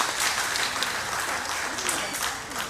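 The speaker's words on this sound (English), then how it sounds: "Let's give them a really big round of applause" A crowd applauds loudly and continuously, a dense wash of clapping hands from start to finish.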